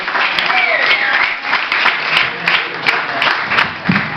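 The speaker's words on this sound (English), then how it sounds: "ladies at the back, twins, start applauding" A crowd at a comedy show in a brewery claps, a fairly loud, continuous patter of hands, while a comedian's voice carries on over it.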